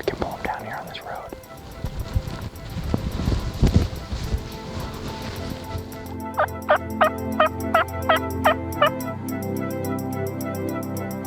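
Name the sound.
turkeys gobbling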